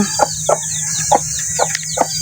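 Newly hatched chicks and hens cluck in short repeated calls about every half second, close by, over a steady background hum.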